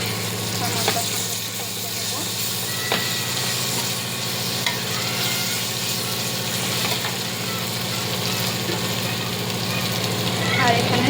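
Garlic paste frying lightly in a pan gives a steady close sizzle and hiss throughout, with a constant low hum underneath and occasional faint scrapes.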